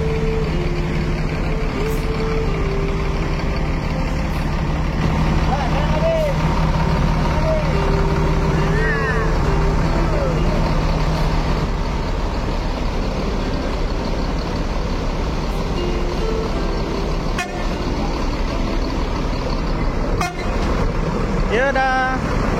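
Intercity buses idle and pull away at a busy Indonesian terminal, a steady low diesel drone with short horn toots over it and a voice announcing departures throughout.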